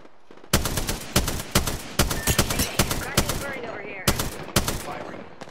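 Gunfire in a video game battle royale match: a string of loud, sharp shots in irregular bursts, some in quick doubles and triples, with faint game voice chatter in between.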